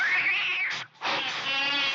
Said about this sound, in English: When he gets home, he sees his pet cat fighting a snake.